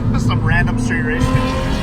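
Cars street racing at a Tempe meet, including a Chrysler 300, roar with engine noise and tire squeal close by, while excited voices talk over the action in a short burst.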